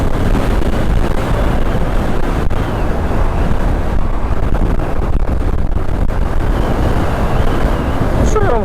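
Honda PCX 125 scooter, a 2016 model, riding at around 100 km/h, with a steady, dense roar of engine and wind rushing past the microphone throughout.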